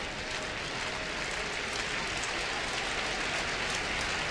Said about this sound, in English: with the raindrops falling outside